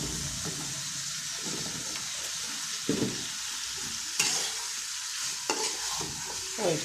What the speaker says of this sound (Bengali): এখন ডাঁটাটা দিয়ে দেবো, ডাঁটা আলু দিচ্ছি সব একসাথে দিচ্ছি।